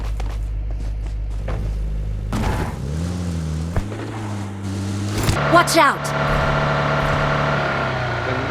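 A car engine in PUBG Mobile hums and revs, its pitch rising and settling, while players talk excitedly over it.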